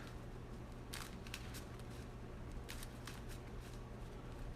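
A deck of playing cards is shuffled close by in a few quick riffling bursts, fairly faint over a low steady hum.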